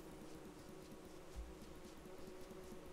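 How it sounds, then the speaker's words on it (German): Bees buzz as a swarm in the survival game Don't Starve Together, a soft, steady droning hum with no talk over it. "Das Geräusch der Bienen ist halt allein schon übel toxisch."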